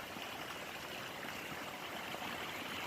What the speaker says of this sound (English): Plenty of water going in and out of this trough.